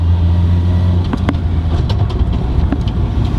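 A Nissan S14 accelerates hard in second gear on a test drive, its engine a loud, close, continuous roar with no voices.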